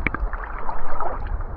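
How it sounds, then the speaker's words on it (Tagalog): Sea waves slosh and wash close by at a beach, a steady rolling swash with some gurgling and no voices. "tunog ng alon ng tubig"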